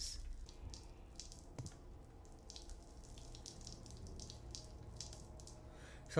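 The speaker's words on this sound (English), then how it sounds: "It's a lot of water dripping." Faint water drips and trickles in an apartment, irregular soft splashes and taps over a low running-water hiss, quiet and with no voices.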